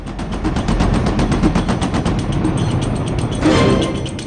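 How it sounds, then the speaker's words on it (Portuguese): One long, unbroken 34-round burst of rapid machine-gun fire, loud and close, shots rattling at a steady fast rhythm for several seconds. "Soltei uma rajada longa de 34 tiros."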